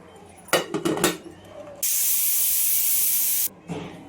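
A few clinks and knocks, then a loud, steady hiss of steam rushing out of a pressure cooker of chicken thokku for about two seconds before cutting off abruptly, followed by faint clatter.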